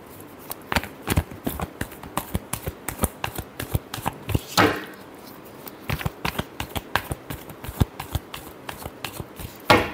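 Tarot cards are shuffled by hand in a quick run of crisp riffling clicks and flutters, with a longer riffle burst midway and another at the end, close and fairly quiet, no talk.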